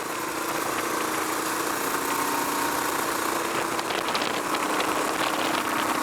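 A KTM 890 Adventure R motorcycle engine runs wide open while riding, a steady droning hum blended with constant rushing wind noise, loud and unbroken from start to finish with no talking.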